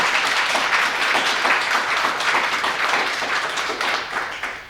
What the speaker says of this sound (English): So to our contestants, let's have a big round of applause.